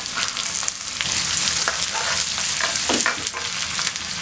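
Finely chopped small onions sizzle in hot oil for a sardine curry, a steady crackling fry with occasional stirring scrapes, close and continuous throughout.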